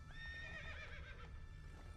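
Roach, the horse in The Witcher 3, gives a clear neigh over steady clip-clop hooves, a whinny rising and falling near and loud against continuous low game ambience.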